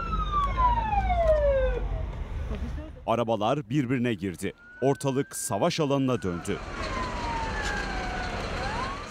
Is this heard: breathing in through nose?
no